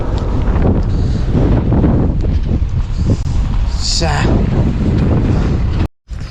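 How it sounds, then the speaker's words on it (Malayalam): Strong wind buffets the microphone in a loud, continuous roar during a cold night cycling ride, cutting out briefly near the end. "പെരും കാറ്റടിക്കുന്നുണ്ട്"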